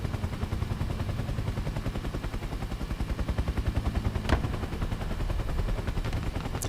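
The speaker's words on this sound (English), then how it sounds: "Somebody's shooting at me." Rapid, steady automatic gunfire rattles without pause throughout a War Thunder ground battle, loud and close, with a sharp crack partway through and no talk.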